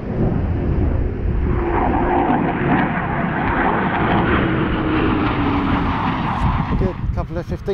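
An F-15 fighter jet returns to its airbase, a loud continuous jet roar rising and falling as it passes, with someone talking over it toward the end.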